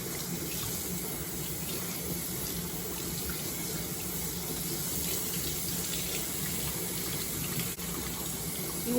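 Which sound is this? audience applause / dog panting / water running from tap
water running from tap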